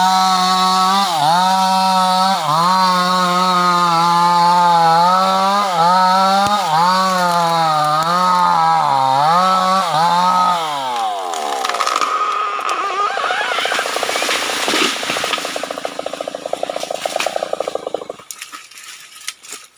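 A chainsaw cuts down trees while land is cleared for a fruit orchard. The engine drones loud and close with a rising and falling pitch, then bogs into a rough, rattling cut before cutting out at the end.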